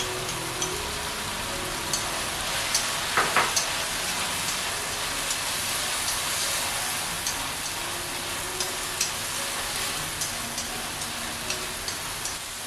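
Tomato and egg stir-frying in a wok, a steady broadband sizzle like rain with scattered small ticks and one brief clatter of stirring, continuous throughout without voices.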